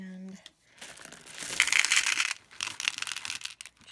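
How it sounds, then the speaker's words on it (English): A crinkly plastic bag of strawberry Starburst jelly beans is handled and opened up close, loud crackling and rustling bursts in uneven waves after a short tone, with no talk. "So we are going to open, these are the Starburst jelly beans."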